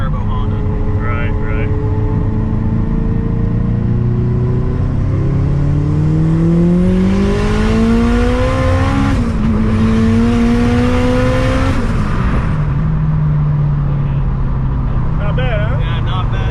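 A turbocharged Honda car accelerates hard, its engine note climbing steadily through a long pull with a brief shift-like dip before rising again, loud and close from inside the cabin, with no speech.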